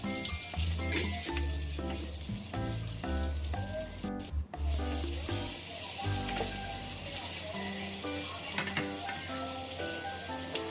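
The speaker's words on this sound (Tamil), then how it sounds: "இப்போ வெங்காயத்தை சேர்த்துக்கலாம். சேர்த்துட்டு நல்லா வதக்கி விட்டுக்கலாம்." Chopped onions sautéing in a clay kadai while a dried-fish thokku is cooked, giving a steady close sizzle that runs under louder background music.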